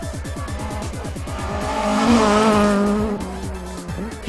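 Ford Anglia WRC rally car driven hard on a hill-climb stage in Barbados, engine revving through rapid gear changes and rising to a loud, sustained roar before easing off.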